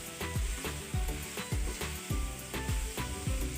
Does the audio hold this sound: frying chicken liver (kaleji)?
yes